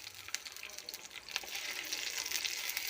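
Cinnamon, cloves and a ginger-shallot paste fry in a pan with a steady, close sizzle and soft crackles, with occasional stirring scrapes.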